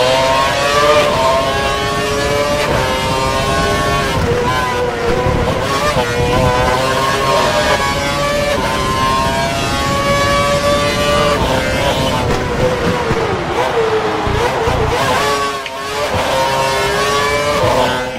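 A Formula 1 car in the F1 2012 racing game on the Canada circuit during a sprint race, its engine a loud, continuous high-revving whine whose pitch climbs and drops through gear changes across the lap.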